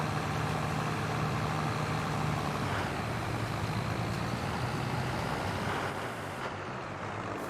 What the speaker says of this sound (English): I think this tractor's underpowered.